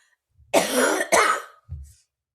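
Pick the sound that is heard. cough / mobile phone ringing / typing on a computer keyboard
cough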